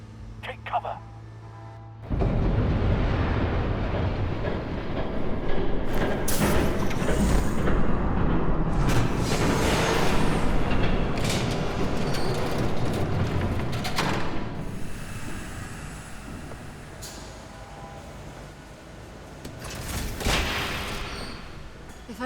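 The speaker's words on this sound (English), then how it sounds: "There's a train coming. Take cover." A train roars past in Batman: The Telltale Series as a sudden, loud, rumbling rush with heavy booming clatter that swells and slowly fades, with voices speaking over it.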